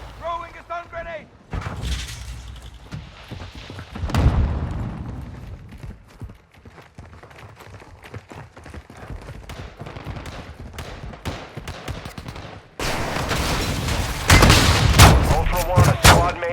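Gunfire and explosions in Call of Duty Modern Warfare II on the Building 21 map, with sharp repeated shots and heavy blasts, a dense barrage near the end, and radio-style game voices heard over the combat.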